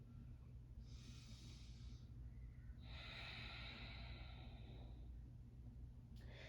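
Slow, audible breaths are drawn through the nose during a side-angle yoga pose, one soft inhale followed by a longer exhale. They are quiet and close over a low steady background hum.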